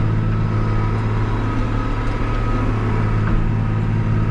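A riding tractor mower's engine drones steadily throughout while mowing, a constant low hum close by with no voices.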